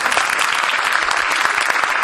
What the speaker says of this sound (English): How about a big round of applause for our panel?